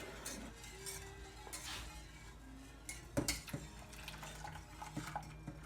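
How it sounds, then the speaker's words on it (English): Milk poured into a pan of butter while making saffron Lussekatter buns in a home kitchen, with a trickle of liquid amid clinking pan and utensil clatter and a sharper knock near the middle, no talking. "Can you pour the milk in with the butter,"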